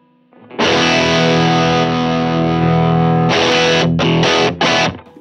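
A Strat-style electric guitar runs through two stacked overdrives with a volume boost, ringing out a loud, sustained distorted chord that holds for several seconds before a few short choppy stabs, close and alone.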